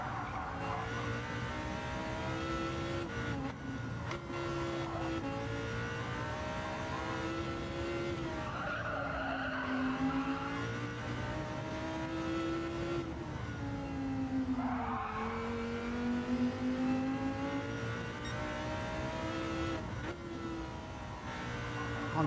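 Lamborghini Huracán race car in Gran Turismo 7, a continuous loud engine drone rising and falling through gear changes with tire squeal woven through, sustained throughout with no talk.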